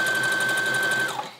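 A domestic sewing machine runs a zigzag stitch along a fabric edge, giving a steady, rapid mechanical whirring with a rhythmic stitch pattern before slowing to a stop after about a second.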